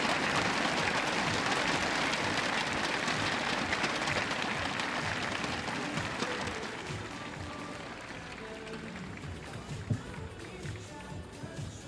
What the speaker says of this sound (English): The applause from the audience still for her